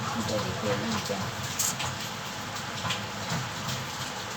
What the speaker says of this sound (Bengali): দেখো বন্ধুরা কি বৃষ্টি পড়ছে